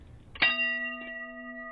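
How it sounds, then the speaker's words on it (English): A bell is struck sharply once, giving a bright metallic clang that rings on with a steady, slowly fading tone, then a faint second tap follows about half a second later, during a reaction-time test. "he'll hit the bell"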